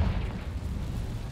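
A Confringo fire spell blasts in Hogwarts Legacy, a steady, deep rumbling boom that holds for the whole moment without a sharp crack, fairly loud and heavy.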